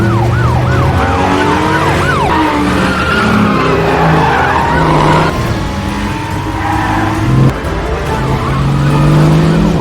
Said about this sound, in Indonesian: Omar langsung kabur dengan supercar itu